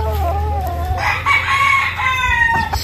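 A rooster crows loudly and close by, a drawn-out call over a low background hum, with other fowl faintly audible.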